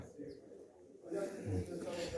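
Pigeons cooing in a breeder's aviary, low soft coos rising in the second half, quiet and close, with faint speech underneath.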